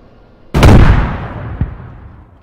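A claymore mine detonates in a video game with a sudden loud blast that rumbles and decays over about a second, followed by a smaller secondary pop.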